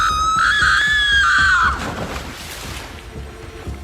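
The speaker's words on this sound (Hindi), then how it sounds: "कमला जोर से चीखी।" A woman lets out a loud, drawn-out scream in a horror story, holding its pitch for about a second and a half before it breaks off, leaving a dim murmuring background.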